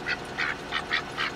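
Ducks or geese honking and quacking nearby, five quick nasal calls in a steady rhythm over a short stretch, fairly clear above low background noise.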